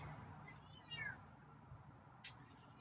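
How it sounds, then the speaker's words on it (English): A feral cat meows a couple of times, faint and somewhat distant against a quiet background, with a few brief sharp noises near the end. "Hey, some more meows"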